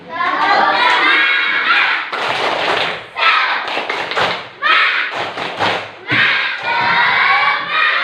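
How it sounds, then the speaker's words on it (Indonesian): A group claps hands together energetically during a lesson, loud and close, in choppy bursts of rhythmic clapping mixed with shouts and cheering voices. "tolong kita tepuk tangan ini kan, semangatnya"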